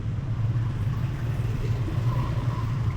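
Road traffic in a traffic jam in Lubuklinggau, a steady low rumble of idling and slowly moving vehicle engines, close and continuous without distinct passes or voices.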